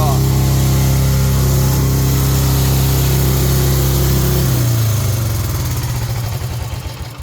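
Engine of a truck hauling an Eager Beaver hydraulic folding-neck trailer rated at 81,120 lbs GVWR idles loud and steady near the mic, then winds down and stops as it is shut off.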